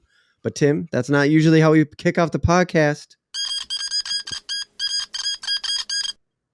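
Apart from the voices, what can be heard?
old-timey news jingle sound effect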